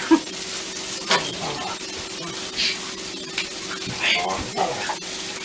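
Meatballs fry in a hot pan with a steady crackling sizzle, punctuated by occasional scraping and clinking as they are turned.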